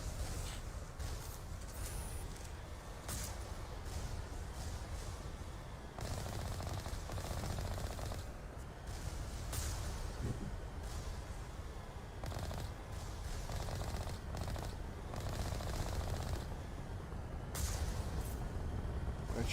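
Rapid bursts of gunfire in the Mass Effect video game as turrets are destroyed, rattling volleys repeating over a constant low rumble, fairly faint overall.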